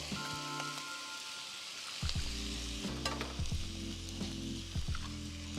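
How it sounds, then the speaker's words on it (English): Eggs cracked into a pan and frying for shrimp fried rice: a steady close sizzle with scraping, stirring clatter that grows louder after the first couple of seconds. "I'll start cracking my eggs right here in the inside"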